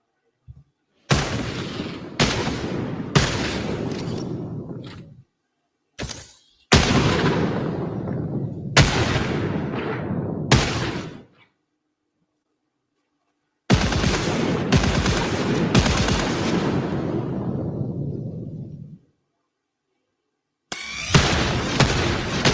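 Pistol gunfire from the alien-world shooter Returnal comes in loud bursts of rapid shots with sharp attacks and ringing tails, separated by short silent gaps.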